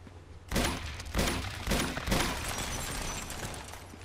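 Pistol fire in the video game Uncharted 2: four loud, sharp shots spaced about half a second apart, each leaving a brief rumbling tail, with no talk.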